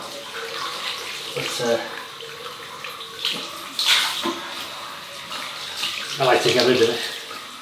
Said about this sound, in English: So I'll just give that a rinse.